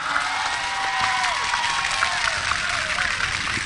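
Audience applause and cheering for a singer at a live Thai stage show, a steady dense wash of clapping from a crowd with some voices mixed in, continuing throughout.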